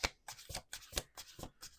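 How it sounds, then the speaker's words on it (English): Tarot cards riffled and shuffled in a series of quick, crisp bursts, close and fairly quiet, with no voices. "Two more shuffles."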